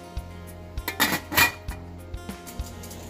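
A metal lid settles onto a cooking pot of cauliflower for ceviche, giving a short cluster of clinks and a brief rattle, with faint taps before and after in a quiet kitchen.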